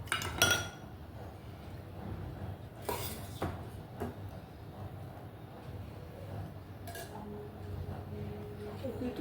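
A home meal being eaten off a plate with fish, curd and chutney, bringing a few sharp dish and cutlery clinks near the start and middle over a steady low background hum.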